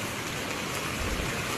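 A swollen river in flash flood conditions rushes swiftly, giving a dense, continuous broadband roar of turbulent water with no pauses, close and loud.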